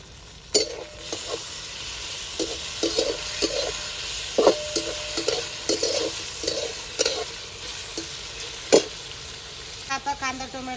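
Onion, potato and tomato sautéing in a pan for kanda batata poha, a steady close sizzle broken by repeated scrapes and clinks of a spoon stirring, with no talk.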